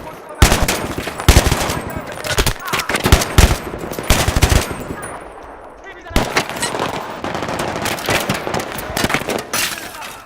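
Rapid bursts of machine gun fire in the video game Battlefield 3 crackle loudly in short volleys, pausing briefly before another sustained stream of shots.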